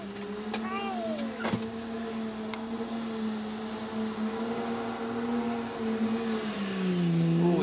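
A 4WD car driven in two-wheel drive on a muddy hill, its engine holding a steady loud rev that climbs near the end, with people talking over it.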